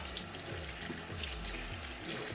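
A makeup sponge being rinsed and pressed under a running tap, giving a steady, close splash of water into a sink with no talk over it.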